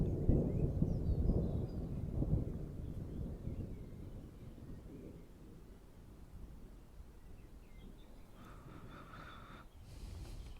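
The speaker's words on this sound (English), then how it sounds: "Cue thunder." Thunder rolls out as a low, rumbling swell that fades over several seconds, followed by quieter wind-like background noise.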